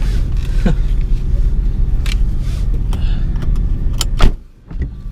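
A 2010 Nissan GT-R Premium with turbos drives along, heard from inside the cabin as a steady low engine drone with faint turbo whoosh, a few brief clicks and rattles near the end.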